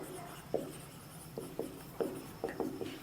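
A pen scratches across paper in short, uneven strokes while cash book entries are written by hand, the quiet scraping marks coming in irregular bursts over a faint steady background.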